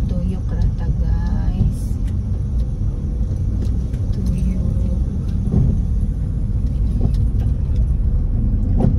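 A car slowly maneuvers into a parking space at a bank, its low engine rumble steady and close throughout, with faint background voices and traffic around it.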